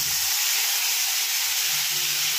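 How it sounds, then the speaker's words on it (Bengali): Ground mustard spice paste dropped into hot oil left from frying hilsa fish, a loud, steady, bright hiss of sizzling that holds evenly throughout, with no voices. "এই তেলের মধ্যেই আমি দিয়ে দেব আমার বেটে রাখা মশলাটা"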